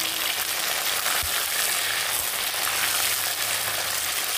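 Sliced okra and potato frying together in oil for a chorchori, a dense, even hiss of sizzling that runs throughout at moderate level, with a couple of soft low knocks and no voices.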